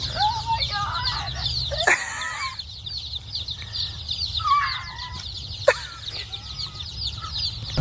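Broiler chicks peeping and chirping in a brooder, a busy layer of small bird calls over a low steady hum, with a couple of sharp knocks partway through.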